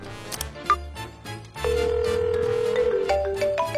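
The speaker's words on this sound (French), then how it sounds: "Est-ce que je viens d'entendre une sonnerie?" A mobile phone ringtone plays, a melodic electronic tune of sustained tones that starts quietly and then rings out loudly and steadily after a short pause.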